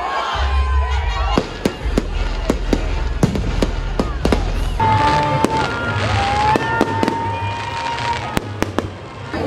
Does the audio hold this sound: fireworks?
yes